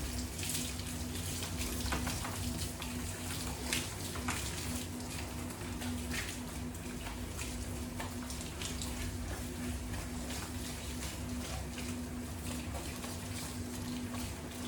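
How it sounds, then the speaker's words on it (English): A hose sprays water steadily while a Gordon setter is bathed during grooming, a continuous broadband rush with a faint steady hum beneath, running unbroken throughout. "I need my hose."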